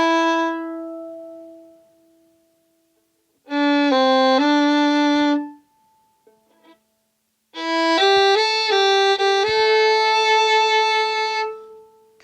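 Old-time fiddle plays the closing tag of the A part of Yew Piney Mountain in short bowed bursts, a sustained low note fading first, then a quick phrase, a pause, and a longer close-miked run ending on held tones.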